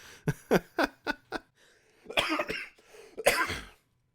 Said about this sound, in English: I've had like a cough since I got COVID earlier in the year